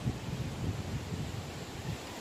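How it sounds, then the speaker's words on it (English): Steady wind buffeting outdoors in rural Jamaica, a low rumbling roar with gusty fluctuations and no voices. "the time is bleak and very windy"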